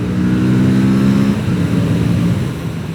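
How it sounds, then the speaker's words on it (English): Aprilia RS457 motorcycle engine revving, a loud close droning note that rises and then settles into a steady throaty hum, with no talking. "I think the star of the show actually might be this new 457 engine"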